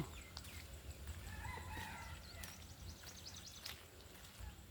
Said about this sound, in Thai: ไก่ตกใจอย่างนะ ตกใจอันหยัง ไก่